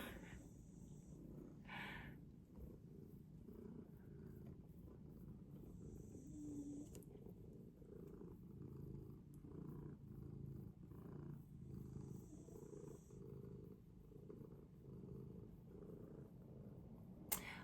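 A domestic cat purrs close by in a steady, low, rumbling rhythm that continues throughout, quiet and unbroken, with a few faint higher clicks and rustles.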